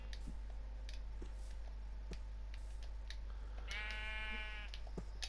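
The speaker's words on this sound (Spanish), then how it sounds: "Ahí está una oveja ahí." A Minecraft sheep bleats once in the PlayStation 4 game, a clear wavering call standing out over a steady low hum and scattered soft clicks and taps.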